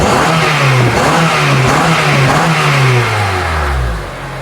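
Honda Element engine, one with a loss-of-power and surging fault, running and revving up and down in a steady loud drone, the pitch rising and falling a few times before settling lower near the end, with no talk over it.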